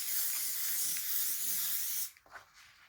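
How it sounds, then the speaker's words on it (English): Elmer's spray adhesive hisses from an aerosol can in one steady two-second burst onto wood for a scroll saw craft project, followed by a few faint clicks and short puffs as spraying stops. "I'm using this spray adhesive, Elmer's spray adhesive that I got from Walmart."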